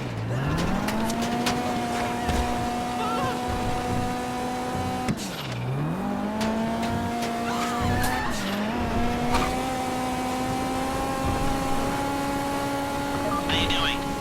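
Getaway car in GTA 5 Online driving with a steady engine drone, then two sharp dips as the engine drops and recovers with tyre skids, running continuously and loud throughout.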